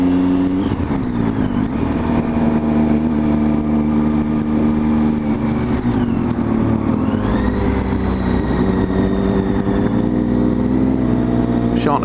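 A motorcycle engine on the road drones steadily throughout, its pitch rising and falling as it accelerates and eases off. Someone talks over the continuous engine noise.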